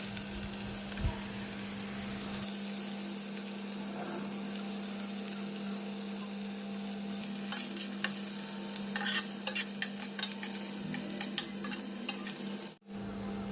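Steady sizzling of chopped onions frying in a pan with cardamom and cinnamon, occasional stirring scrapes, close and continuous, no voices.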